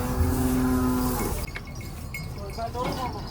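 A cow at a cattle market in Gujrat gives one long, low, loud moo up close, followed by quieter market bustle and faint voices.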